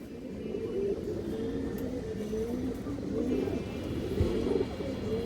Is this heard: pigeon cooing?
yes